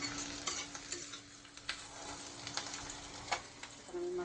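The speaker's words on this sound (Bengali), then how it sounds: "আর এখানে চুলায় পেঁয়াজটা দিয়ে দিই" Onion frying in a pan on a home stove, a faint, steady sizzle broken by small clicks and scraping stirs, with no talking.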